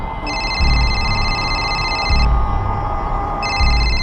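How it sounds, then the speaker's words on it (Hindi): A telephone rings in two repeated electronic trill bursts with a pause between them, over a steady background hum and low thumps. "भाभी जी का फोन है"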